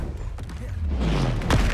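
A spell burst in Hogwarts Legacy on PC, a booming blast with a rumbling low tail and a sharp crack near the end, sounding close and loud over game ambience.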